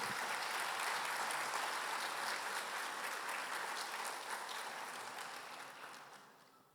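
Congregation at a church service applauds steadily, a broad, even clapping wash that holds for several seconds before gradually fading out.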